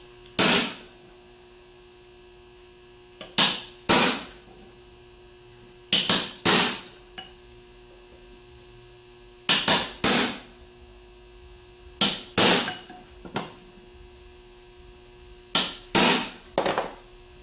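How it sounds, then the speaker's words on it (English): A hammer strikes a sharpened chisel angled against the edge of an aluminum alternator plate, sharp metallic taps in short clusters of two or three, spaced a couple of seconds apart over a faint steady mains hum. "What I'm doing is I'm putting the corner of the chisel on the edge of the plate and hitting it at an angle."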